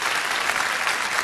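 Brief, full burst of studio audience applause during a Turkish television entertainment show, many hands clapping in a steady dense wash with no voices.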